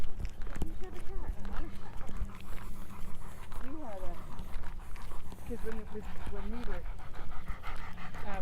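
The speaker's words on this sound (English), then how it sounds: "Pretty good sized dog." A large dog panting on an outdoor city walk in Regina, with quick rhythmic breaths close by over street noise, while people talk through much of it.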